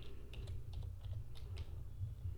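Quick, light clicks of code being typed on a computer keyboard for an ASP.NET Core project, soft and close over a low steady hum.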